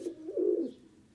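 A black long-headed pigeon gives one soft, low, close-up coo that swells and fades, with faint ambient hiss and no talk.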